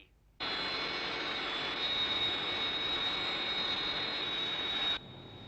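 Jet engine of the Thunderbird 1 craft roars in a loud, steady whine that starts abruptly, holds for several seconds, then cuts off sharply.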